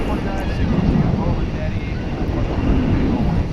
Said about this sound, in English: That is the 767, which is on its way to Austin.